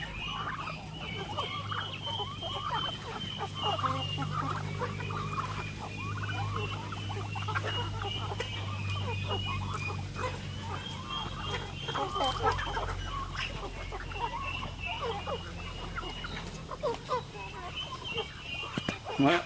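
Rhode Island Red chickens cluck and squabble at close range, with agitated clucking, scuffling and flurries of wing noise running steadily throughout.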